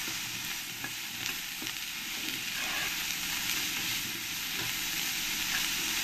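Bitter gourd pieces fry with salt and turmeric in oil over a lowered gas flame, a continuous dense sizzle up close with a few scraping stirs, no one talking.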